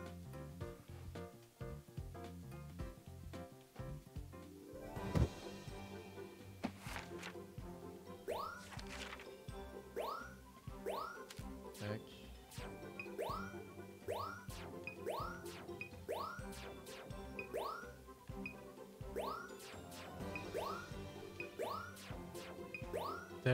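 Bright chiming dings repeat in a steady run over game music in New Pokémon Snap, a rapid cascade of notification tones close and clear, with no talking.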